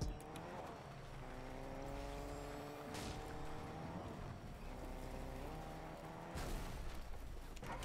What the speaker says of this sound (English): Now I'm taking the car and booking it.